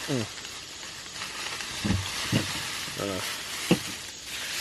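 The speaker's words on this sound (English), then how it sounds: "Start browning off that chorizo." Chorizo browns in a pan at an outdoor camp, a steady sizzle and frying crackle running under a man's brief bursts of speech.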